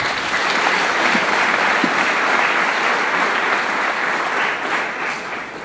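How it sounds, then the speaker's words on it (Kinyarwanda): A church congregation breaks into sustained applause, a dense, even wash of many hands clapping that fills the room and tapers slightly near the end, no voices standing out. "nimufashe dukomere Imana amashyi"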